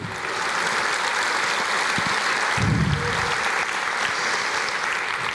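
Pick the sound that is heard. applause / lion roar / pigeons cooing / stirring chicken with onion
applause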